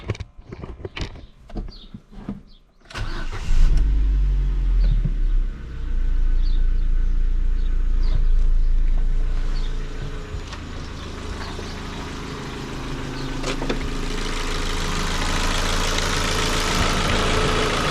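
Ford Focus 1.6 2007 engine with worn spark plugs cranking, catching after a few seconds of clicks and handling noise, then settling into a loud, steady idle that continues close by.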